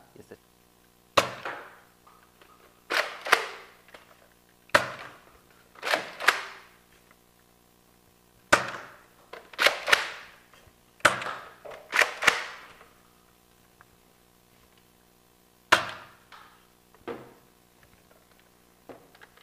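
A Nerf N-Strike Elite Retaliator blaster fires foam darts: sharp, punchy pops in irregular bursts, each with a quick decaying whoosh, close by, with short pauses between volleys.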